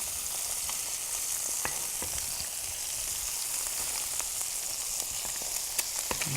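Shrimp and egg sizzle and crackle in a hot pan as they are stirred, a steady close fry broken by small sharp clicks and spatters.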